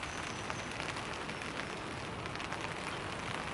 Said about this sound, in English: Yeah, it's starting to rain.